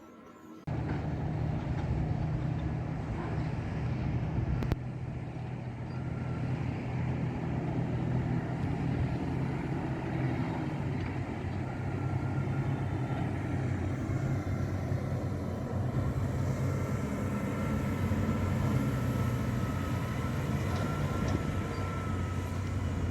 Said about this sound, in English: Fitted with a Cat C27 825 horsepower engine, you probably wouldn't want to be paying the fuel bill to fill its 800-litre tank